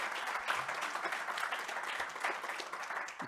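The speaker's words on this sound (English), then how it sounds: "So let's have an applause for all of them." Audience applause at a conference, a steady wash of many hands clapping that fills the whole stretch at an even level.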